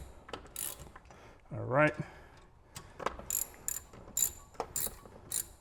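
A ratchet wrench clicks in short bursts during a rear brake rebuild on a 2004-2008 Acura TL, close and crisp, with brief pauses, clanks of tools, and someone speaking briefly.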